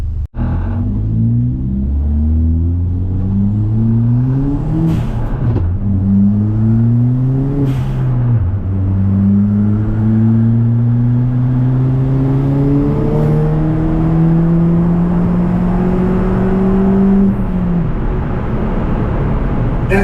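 A car with a newly built engine, running rough on a shakedown drive, revs loudly and continuously, its pitch climbing in repeated sweeps as it accelerates through gears, with a droning rumble underneath.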